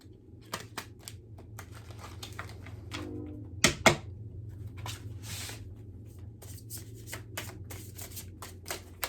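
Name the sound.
laying out tarot and angel cards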